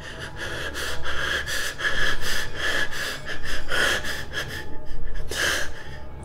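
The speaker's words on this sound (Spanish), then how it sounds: "Su respiración era tan agitada y dificultosa como la de un moribundo en sus últimos segundos de agonía" Heavy, agitated breathing rises and falls in rapid gasping pants, close and loud, with sniffs and wheezy catches between breaths.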